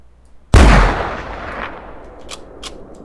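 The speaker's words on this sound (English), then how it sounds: "we might get in a long range shot" A single loud rifle shot fired at a bison in the hunting game theHunter 2016, with a sharp crack followed by a long rolling echo that fades over a couple of seconds, with faint higher noises after.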